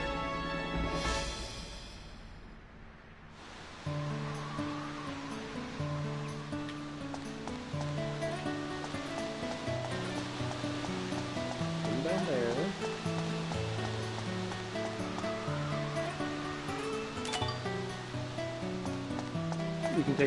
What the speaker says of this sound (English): You can take a picture of falling water.